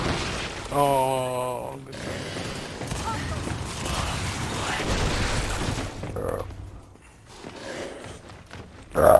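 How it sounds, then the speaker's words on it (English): A flashbang grenade bursts in a King of the Hill video game match, a loud dull blast followed by sustained crackling gunfire and rumbling, with a player's brief exclamation and a sharp sound at the end. "Throwing flashbang!"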